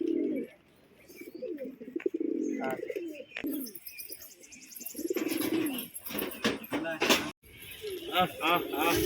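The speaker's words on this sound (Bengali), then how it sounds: "তো এইখানে সমস্ত পায়রা আপাতত এখানে ছাড়া রয়েছে" Pigeons kept at a house cooing in soft repeated rolling calls, with chirps and rustling from the flock and people talking nearby.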